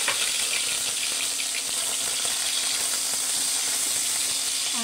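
Garlic and onion frying in a pan while making menudo, a steady close sizzle with a faint hiss running evenly throughout with no voices.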